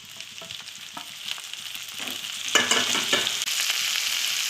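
Garlic, onion and tomato fry in a pan for chicken kosa, a soft sizzle building louder as stirring scrapes and clatter pick up midway.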